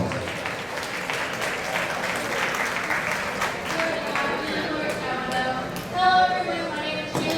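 An outdoor picnic crowd claps for Miss Cherokee Julie Thornton, a steady, moderate round of applause with voices and a brief louder burst near the end.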